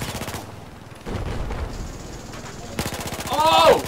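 Battlefield 4 online Conquest match with rapid automatic gunfire in tight rattling bursts, one at the start and a louder, denser run near the end, separated by a stretch of busy in-game background noise.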